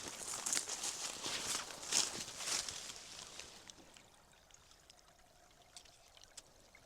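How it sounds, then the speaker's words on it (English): A small stream trickles over soggy, very wet ground on a farm, a soft continuous flow that grows fainter in the second half, with scattered footsteps or crunching near the start. "And down over here, there's a little trickle."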